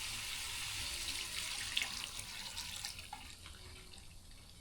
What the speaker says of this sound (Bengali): এই যে গরম পানি আছে এই নিয়ে দিয়ে দিই।